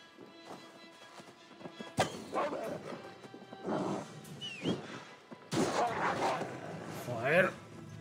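A dog barks in Assassin's Creed Valhalla, several sharp barks and yelps in bursts alongside thuds and scuffles, with a voice talking over much of it.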